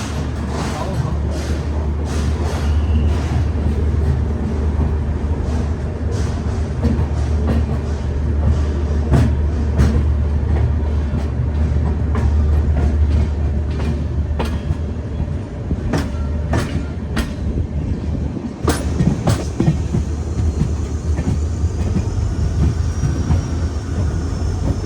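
A 12703 Falaknuma superfast express rolls in reverse through a large junction at night, giving a steady loud rumble with faint clickety-clack of wheels and occasional sharp clanks, with voices talking faintly in the background.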